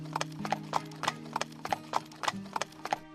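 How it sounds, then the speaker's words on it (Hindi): Horse hooves clip-clop at a steady, even trot along a forest road as a horse-drawn cart travels, each hoofbeat close and crisp over a low continuous rumble from the cart. "अपने घोड़े गाड़ी से जंगल के रास्ते से जा रहे थे"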